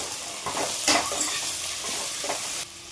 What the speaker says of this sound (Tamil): பாவக்காய் இப்போ எண்ணெயிலே நல்லா வதங்கிருச்சு.